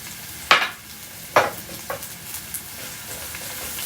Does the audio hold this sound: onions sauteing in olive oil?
yes